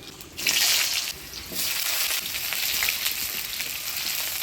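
Potatoes dropped into hot oil in a heated kadai tempered with black cumin, giving a loud close burst of sizzling that eases slightly and then holds as a steady crackling fry.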